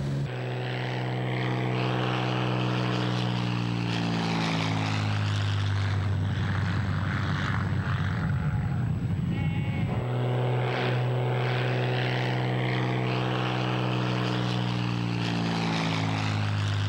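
A light propeller plane drones steadily overhead in the Australian Outback, its engine loud and continuous, swelling slightly as it passes closest before settling back into a steady hum.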